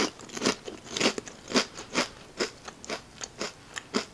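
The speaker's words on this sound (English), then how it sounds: "Oh, it really is a potato covered in chocolate." Crisp, repeated crunching as someone bites and chews a chocolate-covered potato snack, about a dozen sharp crunches at a steady chewing rhythm, very close and alone with no talking.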